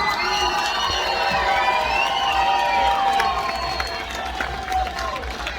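Crowd cheering, whooping and shouting after a live performance of a song, a loud, dense and sustained roar of many voices close by that holds steady before easing slightly toward the end.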